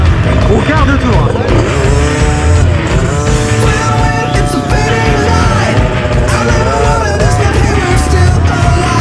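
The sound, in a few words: small 125cc motorcycle engine riding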